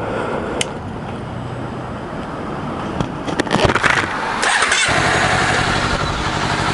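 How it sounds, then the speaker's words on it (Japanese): A two-cylinder Honda CBR250RR motorcycle engine rumbles steadily close by, revving briefly with a few sharp mechanical clicks before settling back into a low, even run. "サウンドはおとなしいんですけどね、 やっぱり2気筒なんで。"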